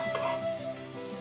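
Food frying in hot oil at home gives a continuous close, steady sizzle with faint bubbling throughout, with no one talking.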